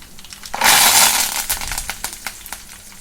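A burst of loud sizzling as crushed garlic cloves and cumin seeds hit hot oil, then settling into scattered crackles and pops, close by.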